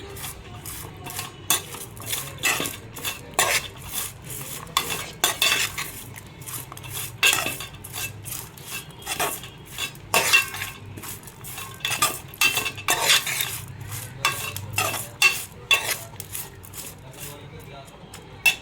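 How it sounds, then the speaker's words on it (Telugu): A spoon scrapes and clanks against a pot as a fish curry mixture is stirred, producing irregular close metallic scrapes and knocks throughout while a voice speaks intermittently. "ఇప్పుడు ఈ మిశ్రమాన్ని బాగా కలపాలండి."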